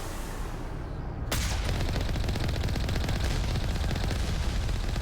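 Turret gunfire in Mass Effect 1 breaks out suddenly after a short stretch of quieter ambience, then carries on as relentless rapid automatic fire, loud and continuous until the end.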